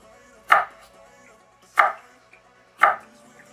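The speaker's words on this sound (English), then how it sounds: "if you chop the potatoes like so" Peeled russet potatoes being chopped with a knife on a board, three sharp, close chops spaced roughly a second apart in a quiet kitchen with no talk.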